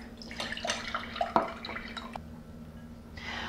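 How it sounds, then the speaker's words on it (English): Ice-cold water poured into pie dough being made for a tarte tatin, a short splashing trickle with a few drips up close, fading to a quieter stretch before a soft hiss at the end. "I'm gonna add 1/4 cup of ice cold water."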